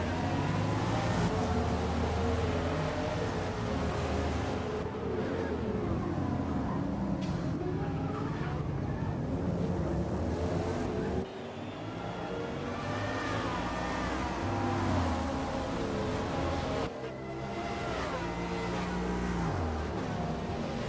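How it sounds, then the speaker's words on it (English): A car engine in the Gran Turismo 7 racing game drones continuously, rising and falling as it revs and shifts, with a couple of brief dips in level and no talk over it. "Just have a little listen to the engine."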